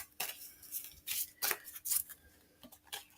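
Reading cards are shuffled by hand at close range, a series of quick papery riffles and soft slaps with short gaps between bursts, with no voice.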